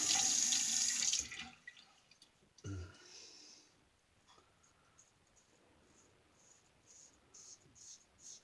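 A water tap runs loudly for about a second to warm a safety razor, then shuts off, leaving quiet faint handling sounds and light taps.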